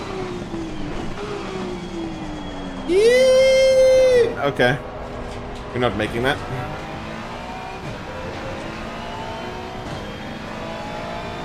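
A race car engine in Assetto Corsa Competizione revs hard in a sharp rising whine lasting about a second, followed by short bursts of engine noise and a steady background drone, with someone talking excitedly over it.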